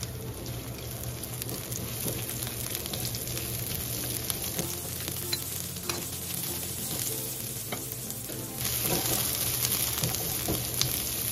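Garlic and onion fry steadily in a pan for a vegetarian Chinese-style vegetable dish, a continuous close sizzle with occasional stirring scrapes that grows slightly louder near the end.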